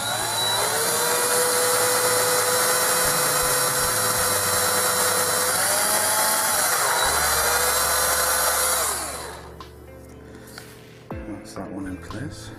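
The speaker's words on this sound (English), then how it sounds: "So I'm aiming for something fairly central with the drill." A power drill whirs loudly and continuously for about nine seconds, its pitch dipping as the bit loads up, then winds down and stops, followed by a few faint knocks and handling sounds.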